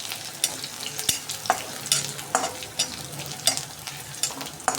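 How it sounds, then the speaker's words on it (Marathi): Onions sauté in a pan for spiced vermicelli upma, with steady sizzling and repeated rhythmic scraping strokes of a spatula stirring them, close and clear with no talking. "कांदा छान लालसर रंगावर आपण परतवून घेणार आहे."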